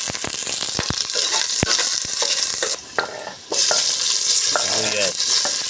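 Squid for adobo sizzles loudly in a pan while a utensil scrapes and clanks through repeated stirring strokes. The frying dips briefly midway, then continues.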